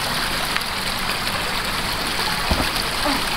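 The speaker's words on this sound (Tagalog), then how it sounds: "Ang dami ng tubig ni." A stream of water flows steadily at a blue lagoon river near Kaybiang Tunnel in Ternate, Cavite, a constant loud rushing and gurgling wash that fills the whole stretch with no voices on top.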